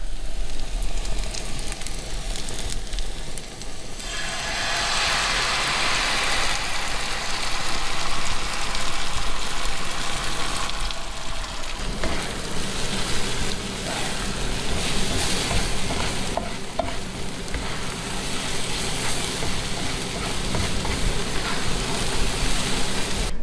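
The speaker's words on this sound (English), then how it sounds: "bacon and eggs for breakfast, cooked on the brand new grilled stovetop" Bacon and eggs fry on a new grilled stovetop with a continuous loud sizzle and crackle. A broad hissing surge rises partway through, then the frying settles back to a steady spitting sizzle.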